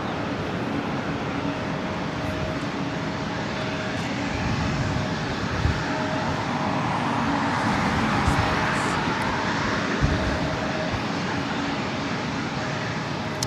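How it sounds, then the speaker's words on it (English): An Asiana Airbus A380 lining up on runway 25 left at LAX produces a continuous, fairly loud jet engine roar with a faint steady whine, building slightly midway, with no talk. "Asiana flight 201, the A380 Super heading back to Seoul."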